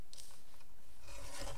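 A craft knife scrapes along a ruler through excess card stock while making a 3D heart greeting card, a steady close rasping drag that catches and rubs near the end, with no talk.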